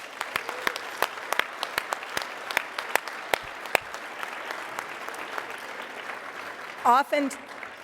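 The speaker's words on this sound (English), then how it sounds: "can you please just raise your hand so that we can give you a huge round of applause?" Audience at a Rotary Club of Denver meeting clapping for Denver Kids counselors: sparse, distinct individual claps spread across the room, fading out midway, with a brief voice-like sound near the end.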